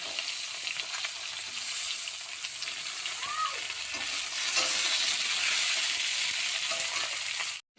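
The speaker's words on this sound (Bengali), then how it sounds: "আমি পটলগুলো প্রথমে ভেজে নেবো লাল লাল করে।" Loud, steady sizzling of pointed gourd frying in hot mustard oil in a wok, with scraping stirring sounds now and then, close by and continuous.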